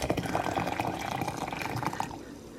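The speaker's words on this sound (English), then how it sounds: "My water is ready to go, and I'm going to pour it in here about 3/4 of the way up." A steady stream of hot water pouring into a vessel for tea, continuous and close, stopping near the end.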